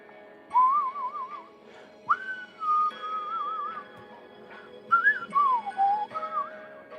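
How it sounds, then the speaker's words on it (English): A person whistles a wavering, warbly tune in several short phrases with brief pauses, close and clear in a quiet room. "I shouldn't whistle when we're live."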